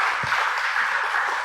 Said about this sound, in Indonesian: Berikan aplaus tepuk tangan yang paling meriah.